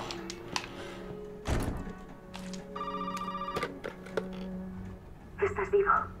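Telephone ringing in Resident Evil 7, a short electronic ring rising mid-clip over dull thuds and low game ambience, with a brighter chime sound near the end.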